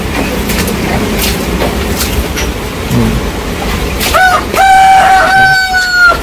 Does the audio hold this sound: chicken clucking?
yes